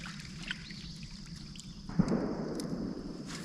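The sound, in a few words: distant gunshot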